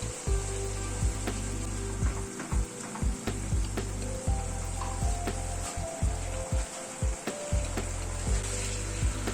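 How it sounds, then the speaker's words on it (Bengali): Paneer cubes simmering in a Coorg-style masala curry gravy, a steady close sizzle and bubbling with soft stirring scrapes and taps against the pan. "মিনিট 2 মতো পনিরগুলো ঝোলের মধ্যে ফুটলো।"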